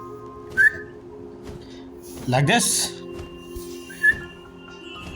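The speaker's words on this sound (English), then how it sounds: "They would never respond to a lackluster whistle like that." A character in the Genshin Impact video game whistles twice to call a Kukasaur, with two short rising whistles a few seconds apart. A brief burst of speech falls between them.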